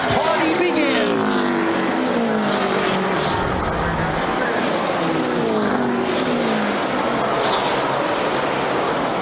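Race cars at the Brickyard 400 in Indianapolis roar past in a loud, continuous engine drone, with rising and falling pitch sweeps as cars pass, under excited commentary and crowd noise.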